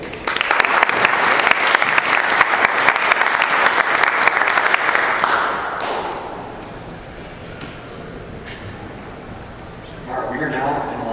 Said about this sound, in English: I will now entertain a round of applause for all representatives who participated in debate